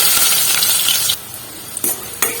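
Onion sizzles in oil with mustard seeds, cumin and curry leaves in a pan for cabbage curry, a bright crackle that drops after a second, followed by a few light stirring clicks.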